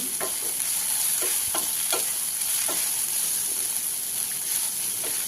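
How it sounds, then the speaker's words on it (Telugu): Fresh ginger garlic paste fries in a pan for a bean curry, a steady close sizzle with scattered soft stirring scrapes throughout, no voices. "ఒక స్పూన్ ఫ్రెష్ అల్లం వెల్లుల్లి పేస్ట్ కూడా వేసుకుని పచ్చివాసన లేకుండా వేయించుకోవాలి"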